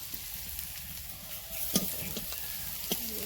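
Cumin seeds tempering in hot oil in a home kitchen, a close, steady sizzle with scattered sharp pops and spatters, briefly louder midway.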